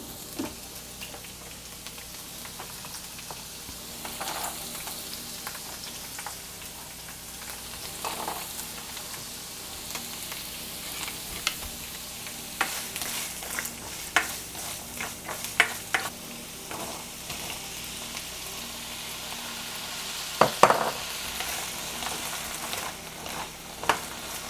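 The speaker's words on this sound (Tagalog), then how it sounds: "ipiprito ko muna yung carrots and yung patatas" Carrots and potatoes fry in oil in a wok with a quiet, steady sizzle, broken by scattered stirring clicks and scrapes that grow busier toward the end.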